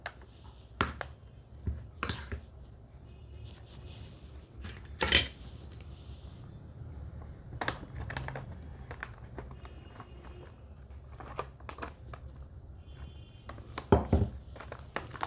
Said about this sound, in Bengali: ডিমের গোলাটা ঢেলে দিয়ে একটু চামচ দিয়ে মাখিয়ে নেব